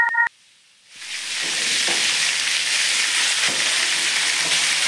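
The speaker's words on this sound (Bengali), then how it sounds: "এদিক দিয়ে হচ্ছে আমার মাছগুলো পুইটা যেতেছে" Fish sizzling steadily and loudly in a frying pan, close by, the hiss starting after a short electronic beep and a moment of quiet, with no talking.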